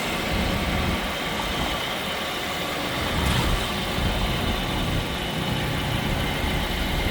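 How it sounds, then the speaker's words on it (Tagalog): A 2021 Toyota Rush G variant engine idling, a steady, even mechanical hum with a constant low rumble and no rev changes, close to the engine bay and free of speech. "Ito guys yung engine ng ating 2021 Toyota Rush G variant."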